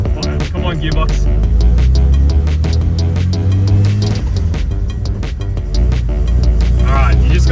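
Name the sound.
Nissan Patrol 4x4 engine running while driving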